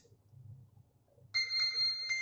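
A connected phone rings, triggered by the find-device feature of an Amazfit Bip smartwatch. After a quiet, low rumble, a loud, steady electronic ringtone starts abruptly and keeps sounding to the end.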